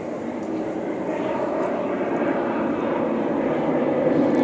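An airplane flies overhead, its engine a loud, steady broadband roar that holds and swells slightly throughout.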